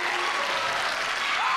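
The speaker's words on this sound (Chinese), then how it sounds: "用最热情的掌声谢谢我们的老师" An audience at a junior high school song-and-dance drama competition claps in warm thanks to the teachers, a brief, dense burst of steady applause.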